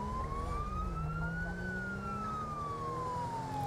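A police car siren wails in a slow rising and falling sweep in the GTA V video game, steady and fairly loud over a low engine rumble, with no talking.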